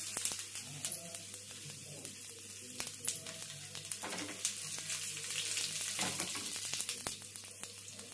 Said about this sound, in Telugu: అన్ని తాలింపు గింజలు వేసేసి తాలింపు వేసుకోవడం.